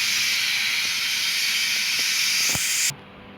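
A steady, loud hiss of steam pours from a steamer heating Thai rice noodle rolls, with a few faint clicks, then cuts off abruptly near the end.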